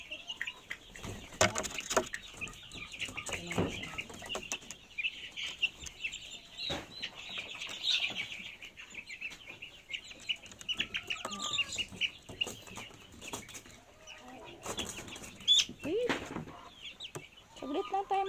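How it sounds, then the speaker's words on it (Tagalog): Barred Plymouth Rock chickens being given vitamins cluck and squawk close by in intermittent bursts, with a person speaking quietly among them. "yun ang mahirap kasi lumalaban pa itong mga manok"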